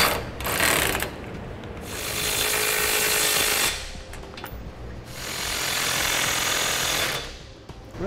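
A power tool snugs down the fasteners of a Curt front-mount trailer hitch on a 2010 Toyota 4Runner, with three long, loud, rattling hammering bursts close by and brief pauses between them.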